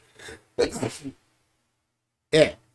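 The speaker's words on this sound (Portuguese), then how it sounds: "É um minutinho só que eu vou ter que espirrar." A person sneezes close to the microphone with one sharp, explosive burst. Brief breathy vocal sounds come just before it, and another short burst follows a moment later.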